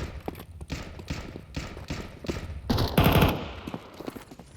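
A Counter-Strike match on the Ancient map: Mac 10 and AK-47 fire comes as several quick bursts of rapid shots at moderate volume, and a louder, denser volley follows near the end.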